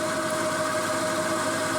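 An ACRA Heavy 14 metal lathe cutting metal at 600 RPM gives a steady, even mechanical hum with a constant whining tone, close and unbroken, with no voices.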